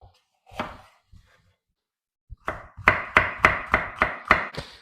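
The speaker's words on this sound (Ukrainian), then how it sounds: "Далі нарізаю перці." Knife chopping small hot peppers on a cutting board: a few scattered cuts, then a steady run of about eight sharp, evenly spaced chops, close and fairly loud.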